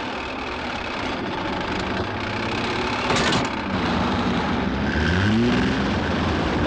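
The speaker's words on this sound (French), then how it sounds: "C'est Gérard qui fait un réglage de moteur!" Gérard's car engine revs unevenly during a tune-up, a loud rumbling idle that climbs into a drawn-out rising whine near the end, with no talk over it.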